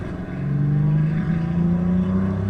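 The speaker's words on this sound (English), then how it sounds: "Great engine sound, that." Maserati 250F race car in Assetto Corsa, engine note rising as it revs, a loud, steady, buzzing drone climbing in pitch, heard alone.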